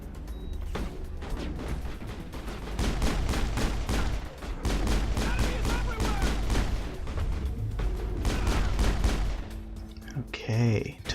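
Sustained gunfire from the video game Mass Effect, dense bursts and rapid rattling shots with booming impacts rolling almost continuously, loud and close, ending in a short electronic tone.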